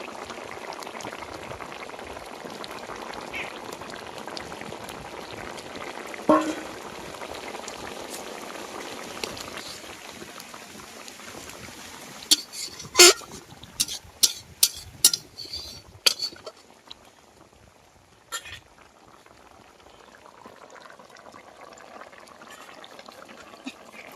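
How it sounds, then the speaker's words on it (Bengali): A pot of thin fish curry broth bubbles at a low simmer, soft and fairly quiet. Several sharp clinks of a utensil against the pot break in partway through. "ঝোল ফুটে গেছে মাছ দিয়ে দেবো"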